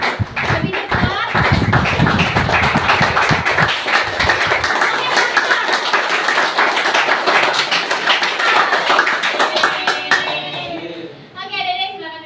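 Children clap their hands rapidly in a classroom, a dense, steady patter of many small palms that keeps up for about ten seconds, with kids' voices and chatter mixed in, before fading into brief talk.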